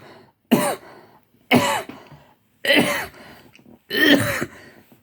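A man's harsh, chesty cough repeats four times at close range in evenly spaced bursts, with quiet gaps between them.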